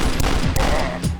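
Two shotguns blasting in rapid alternation in a fast-paced first-person shooter, three loud punchy booms in quick rhythm within about a second, close and dominant.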